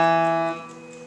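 A piano string rings in sympathetic resonance on the fifth, an E, a sustained harmonic-rich tone that starts clear and fades quickly over about a second.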